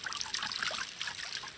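Water draining away as a farmed fish is handled, a light, uneven trickle and dribble of liquid running off, fairly close and soft, with no voices over it.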